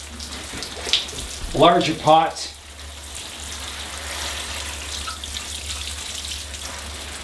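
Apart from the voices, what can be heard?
water spraying from watering nozzle, coarse setting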